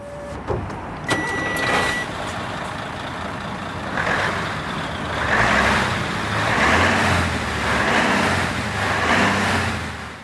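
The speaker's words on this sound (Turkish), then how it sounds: "Şimdi bir marş yapalım bakalım. Şöyle çalıştıralım bir." A Mercedes Actros truck engine starts in Euro Truck Simulator 2: a click and short crank, then a steady, loud diesel idle that pulses in slow rhythmic swells with the windows down.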